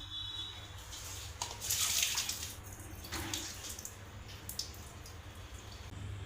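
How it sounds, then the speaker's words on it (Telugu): Soaked rice being strained in a kitchen while making paramannam, a milk-and-rice sweet, with a soft steady trickle and splash of water draining away, louder around the middle, close by and without talk. "ఈ రైస్ ఇలా వడగట్టి"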